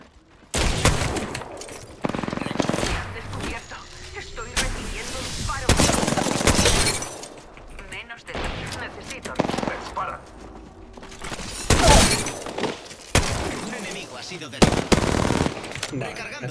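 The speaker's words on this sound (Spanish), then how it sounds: "Me disparan, amigos." Bursts of automatic gunfire in Apex Legends, loud rapid volleys repeating every second or two across the stretch, with a voice talking over the shooting at times.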